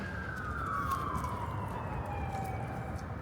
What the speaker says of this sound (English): they still have more fire trucks and the ambulances pulling up to that fire